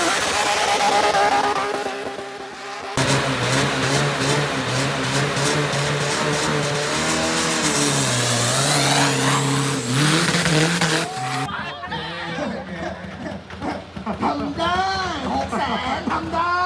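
Drift cars at a street racing show in South Thailand, engines revving hard with rising and falling pitch and screeching tires, loud and near amid a large crowd, with a voice over the PA mixed in.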